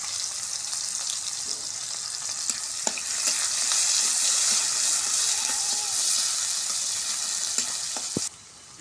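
Chopped onions with two bay leaves sizzle steadily in the leftover oil from frying fish, a dense continuous hiss with scattered stirring clicks and scrapes, close and loud, cutting off abruptly near the end.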